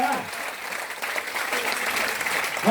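An audience at a business training meeting claps in a dense, sustained burst of applause that carries on evenly through the moment, with a speaker's voice heard briefly at either edge.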